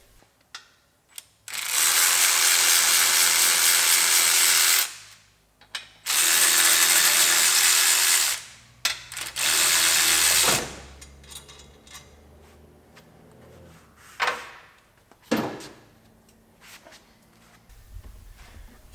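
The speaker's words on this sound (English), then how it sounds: "So I'm going to unbolt the turbo and get that off" Ratchet wrench unbolting the turbo from a Datsun 280ZX with a 5.3 LS engine, three long bursts of rapid, close clicking, then scattered metallic clanks and tool handling.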